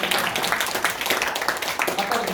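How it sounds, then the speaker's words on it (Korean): Applause at a church youth retreat, with a dense patter of many hands clapping steadily throughout, under some talk. "예, 박수."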